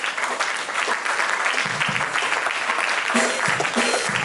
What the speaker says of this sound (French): On se tient debout et on acclame très fort le Seigneur.